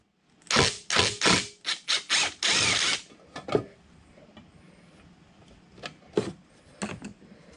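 Bolts and feet being removed from the base of a Baldor buffer motor: a quick series of rapid, loud ratcheting bursts from a nearby tool, then quieter metallic clicks and taps.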